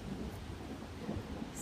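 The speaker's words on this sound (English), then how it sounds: "Thunderstorm." Thunder rumbles low and steady through a thunderstorm over a Vermont homestead garden, a continuous deep roll with faint rain hiss and no voices.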